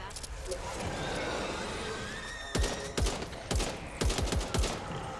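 Gunfire in the video game Back 4 Blood: loud, sharp shots crack out in quick irregular bursts over a low background hum, with a player talking between them.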